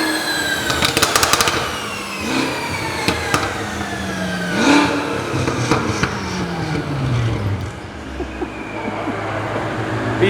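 A Nissan GT-R runs on a dyno at a supercar dyno day, its engine revving loudly in rising and falling sweeps, with sharp bursts and a droning roar that stays close and steady throughout.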